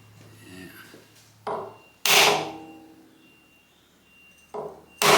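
Wooden tapping stick knocking a workpiece down onto parallels in the vise of a Harrison universal milling machine, a few sharp separate taps at close range with quiet pauses between them.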